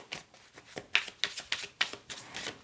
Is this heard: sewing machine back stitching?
no